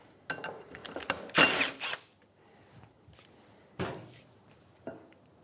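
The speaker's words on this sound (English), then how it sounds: "Using a 7mm hex head, remove the 2 bolts." A 7mm hex tool works the bolts of a Ford Expedition rear brake caliper in short mechanical bursts of whirring and clicking, close and fairly loud, with quiet pauses between.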